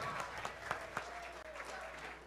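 An audience at a pie eating contest claps steadily, a dense patter of many hands with scattered louder claps, moderately distant and continuous throughout.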